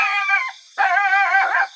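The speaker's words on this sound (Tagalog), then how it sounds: "Aso maingay." A dog gives two drawn-out, whining howls, loud and close, with a short gap between them and nothing else audible.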